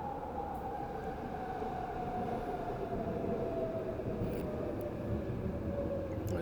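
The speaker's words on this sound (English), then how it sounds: "I didn't notice that train once till I was done riding" A train rolls past in a continuous rumbling drone with a sustained tonal whine, steady and moderately distant, and no one talks over it.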